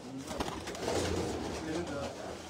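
Pigeons in a loft, including a red-marked bird, give low throaty coos across a few seconds, with a voice talking over them.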